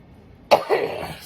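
A single sharp cough bursts out after silence, followed by a rougher throat-clearing rasp, close and fairly loud.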